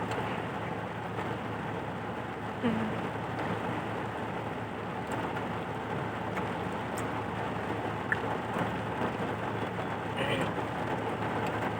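Heavy rain pours down steadily in a dense, continuous hiss, with a few faint background sounds in the mix.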